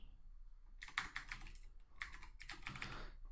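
Quick, close keystrokes clatter on a computer keyboard while a search term is entered, in short irregular clusters of clicks over a few seconds.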